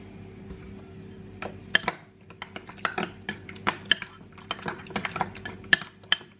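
Spoon and utensil clinks against a bowl as ingredients are mixed together for a recipe, a run of irregular sharp taps and scrapes over a faint steady hum, no talking.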